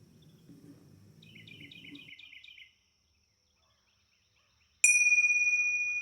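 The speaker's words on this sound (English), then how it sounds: "We will begin our meditation with 1 bell and end with 3." A single meditation bell struck once after a short quiet stretch, a bright ringing tone that fades slowly, preceded by faint chirping and low background murmur.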